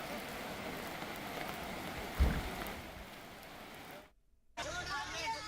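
Heavy monsoon rain pours steadily in Kurla, Mumbai, a dense hiss of drops with a brief louder splash, then cuts out abruptly before the downpour resumes.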